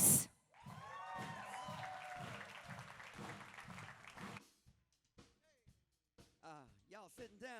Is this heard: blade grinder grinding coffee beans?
no